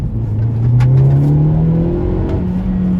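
A 2023 Hyundai Elantra N with a manual gearbox pulls hard in second gear, its engine note climbing steadily in pitch as it revs, loud and close with no one speaking.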